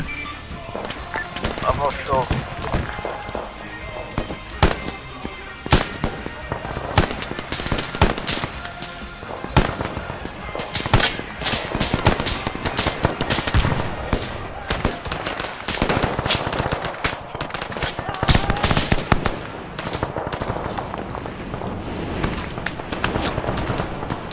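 Gunfire and explosions fill a World War II D-Day video game battle, with rapid irregular shots, bursts and popping blasts continuing throughout, mixed with footsteps and players talking over the din.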